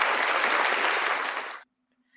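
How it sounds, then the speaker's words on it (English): A steady round of applause from a group, dense and even for about a second and a half, then cutting off abruptly into near silence. "Round of applause for Ray Ray, ladies and gentlemen"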